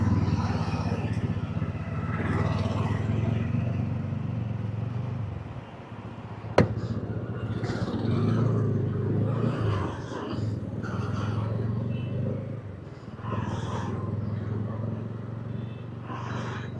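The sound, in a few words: TVS Ronin motorcycle being ridden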